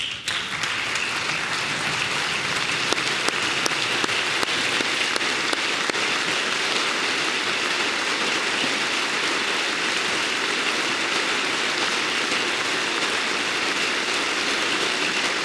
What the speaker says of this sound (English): even the Democrats even clapped for that one